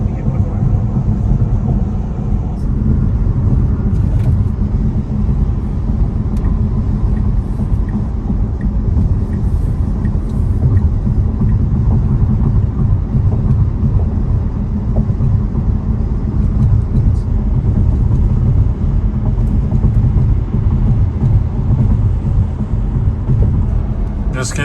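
A Tesla Model Y cruises along the interstate, its cabin filled with a steady, loud low rumble of road and tire noise that holds unbroken throughout.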